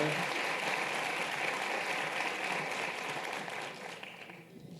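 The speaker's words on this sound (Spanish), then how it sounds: "Nuevamente, por favor, el aplauso para él." A hall audience at an education-quality forum applauds a national deputy from Buenos Aires: dense, even clapping from many people that holds steady, then dies down near the end.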